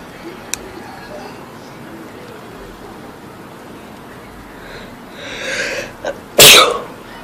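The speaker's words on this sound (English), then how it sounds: "that's how you sneeze, like a boss" After a stretch of hissy background noise, a person's breath builds briefly and then releases in one sharp, loud sneeze close by near the end.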